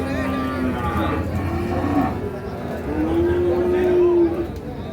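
Cattle, including Sahiwal bulls, mooing at a rainy livestock market, with several long, close low moos over a murmur of background voices.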